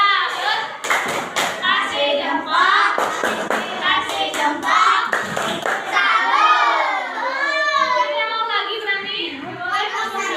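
Children in a classroom do a rhythmic salute clap, with rapid bursts of hand claps mixed with shouting and chanting voices, followed by lively chatter.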